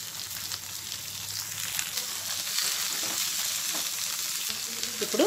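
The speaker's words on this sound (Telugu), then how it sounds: "ఇప్పుడు ఈ ఆనియన్స్ సగం వేగాలండి ఇప్పుడు ఈ బీన్స్ క్యారెట్ ని వేసేద్దాము ఇవి వేగే లోపల" Half-fried onions sizzle in a pan with freshly added beans and carrots, making a steady, close frying hiss with faint stirring scrapes throughout.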